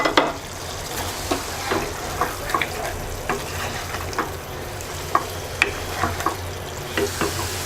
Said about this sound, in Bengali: এবার আরো 2 মিনিট কষিয়ে নেব।